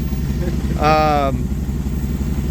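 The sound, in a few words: Jeep V8 engine starting up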